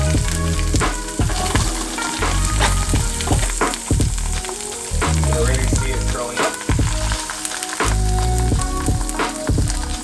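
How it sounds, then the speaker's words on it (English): Barramundi fillet frying skin side down in a hot pan, a loud, close crackling sizzle with irregular pops and spatters and some clattering thuds, no speech. "So here we have our barramundi, which is patted dry. Gonna go skin side down."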